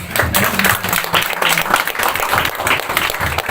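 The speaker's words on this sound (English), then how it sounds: "So let's all stand up and give her a round of applause, even as she comes." A standing audience at a Nairobi film dissemination event breaks into a round of applause as a woman guest arrives, with dense, continuous clapping and faint crowd murmur filling the room.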